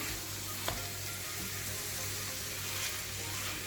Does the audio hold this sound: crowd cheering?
no